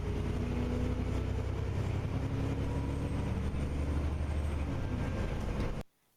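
Bus engine and axles whining in third gear, a steady droning rumble with low tonal hum under constant road noise, cutting off abruptly near the end.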